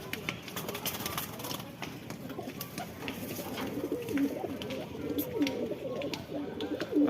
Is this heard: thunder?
no